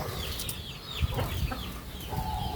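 Chickens clucking in a farmyard, with short scattered calls and a few brief squawks over a steady, busy background; no one speaks.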